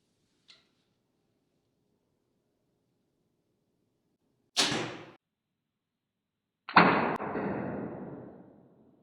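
Mathews Phase 4 compound bow, a 2023 model, shoots an arrow: a faint tick, then a sharp release snap, and a louder thud of impact that decays over about two seconds in an otherwise quiet setting.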